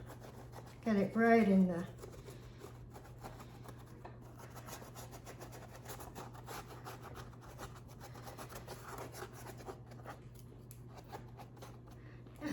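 A stiff brush rubs and rasps faintly and continuously across a surface, with a brief spoken voice near the start.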